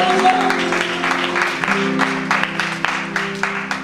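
A church congregation claps along at a worship service, steady and fairly close, over sustained music, with a voice briefly heard through the applause.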